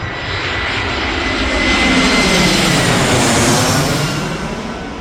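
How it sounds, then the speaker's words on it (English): A loud, steady roar of a Vueling Airbus A320 airliner passing close overhead as it comes in to land, swelling to a peak midway and easing slightly toward the end, with no voices. "I'm just waiting for, I think it's a Vueling Airbus A320 to land"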